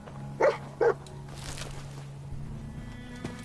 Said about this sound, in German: Ja, Hund.